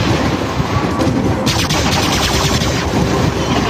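Sustained robot weapon fire in the War Robots mech game, a dense continuous roar of rapid shots with a sharper burst partway through, loud throughout.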